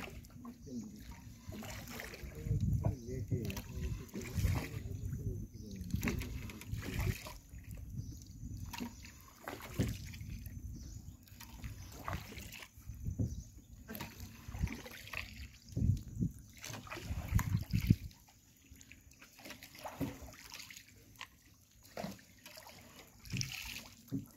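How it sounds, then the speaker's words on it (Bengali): A wooden boat is rowed through the Sundarbans forest waterways, with soft repeated paddle splashes and water trickling in an uneven rhythm, fairly quiet and close, with faint voices and background noise in between strokes. "আর অনেকদিন পরে নৌকা চালাচ্ছি আমি"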